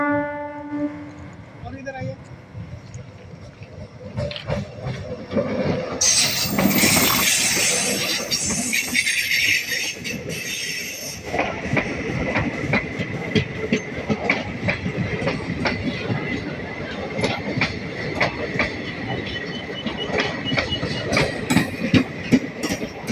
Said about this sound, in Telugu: మహానంది రివర్ బ్రిడ్జి లోపల నుండి ట్రైన్ వస్తుంది.